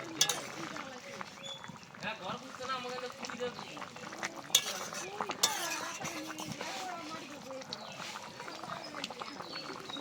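Bengali rohu fish curry with potato and pointed gourd, cumin paste just added, being stirred in a pan: soft continuous scraping and bubbling sizzle with a few sharper utensil clinks around the middle, under kitchen background.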